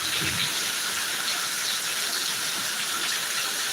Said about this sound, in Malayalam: കിടിലം മഴ അടിപൊളി മഴ കേട്ടോ സൂപ്പർ മഴ